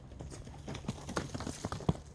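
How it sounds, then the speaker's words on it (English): A horse cantering on the ground during a groundwork warm-up, its hoofbeats landing as a steady run of close, sharp thuds over a low outdoor background. "So now let's go to the canter."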